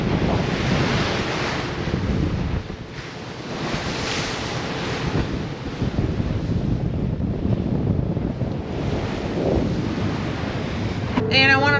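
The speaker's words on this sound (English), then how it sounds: "it's not the best day at sea as far as being calm" Rough sea aboard an Alaska crab fishing boat in summer: a continuous roar of surging waves and heavy wind buffeting the microphone, loud and unbroken, with no voices.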